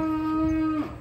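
A single long, steady moo from a cow, one of a pair of unusual cattle, sustained for most of a second and then breaking off, close and loud with no talk over it.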